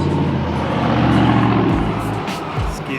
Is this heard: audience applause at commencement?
no